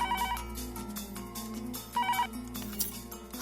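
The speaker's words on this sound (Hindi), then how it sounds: "तू देख तो सही किसका फोन है" A phone ringtone rings in a repeating melodic pattern, two clear bursts of tones over a soft background.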